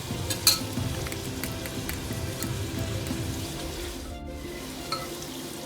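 Green chili, garlic and ginger paste fries in a pan for aloo gosht, with a steady low sizzle and a few light utensil clinks, continuous and close with no talk.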